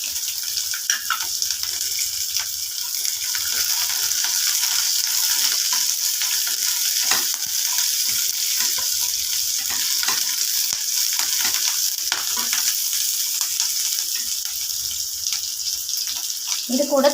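Curry leaves, pepper, cinnamon and cloves frying in oil for mutton gravy: a loud, steady hiss of sizzling with small crackles and occasional stirring clicks throughout.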